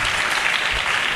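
An audience at a literature festival claps in a steady, dense burst of applause, loud and continuous with no voices over it.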